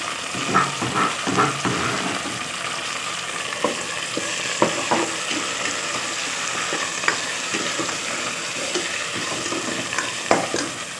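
Meat frying in a pan with garlic ginger paste, stirred with a utensil: a constant sizzle broken by repeated scraping and clattering strokes, close and fairly loud.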